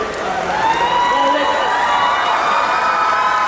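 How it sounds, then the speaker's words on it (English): Crowd at an outdoor evening event in a garden cheers and applauds loudly and steadily, a dense wash of clapping and shouts with a few higher whoops rising above. "can I give a big round of applause, please?"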